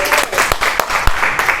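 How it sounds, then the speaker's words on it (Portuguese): A burst of clapping from a crowd, brisk and uneven, with a few sharper claps standing out over the brief ovation. "Palmas para a pastora."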